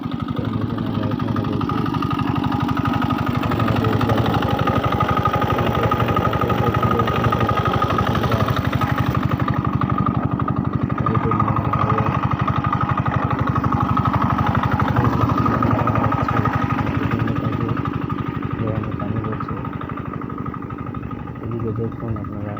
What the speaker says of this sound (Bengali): এখন আমরা এই মেশিন দিয়ে জল দেবো জমিতে